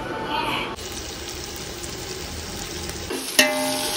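Tomatoes and mint sauté in a pan with a steady hissing sizzle, ending in a sudden clatter. Voices are faintly present in the background.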